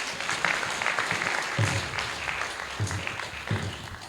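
Crowd applause at a college graduation ceremony, steady and moderately loud throughout, with a few louder low thumps mixed into the continuous clapping.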